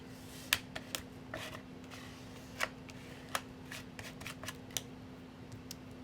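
A craft card is rubbed repeatedly across glued paper on an advent card booklet, giving soft scraping swipes and small taps at an uneven pace, close by and quiet over a steady background hum.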